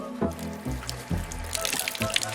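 Water runs and splashes from a tap in a homemade outdoor shower stall beside a container lodging, arriving in uneven gushes and trickles with low thumps, close and moderately loud, with no talk.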